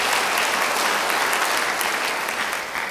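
Loud, dense applause from a church congregation at a worship service, a continuous roar of clapping that holds steady and eases slightly near the end.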